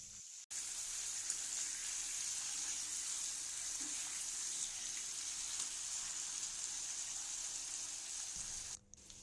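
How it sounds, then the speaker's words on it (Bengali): Potato pieces fry in hot mustard oil with salt and turmeric in a wok, giving a steady, soft, continuous sizzle with faint crackles, heard alone and without talk. "প্রথমেই আমি আলুগুলো একটু লাল লাল করে ভাজা করে নেব।"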